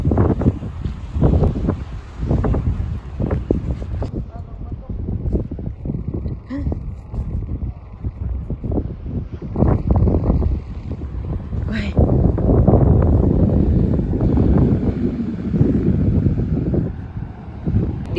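Strong wind at Matapouri beach buffets the microphone in loud, gusty roars that rise and fall throughout, with people talking now and then over the blustery rumble.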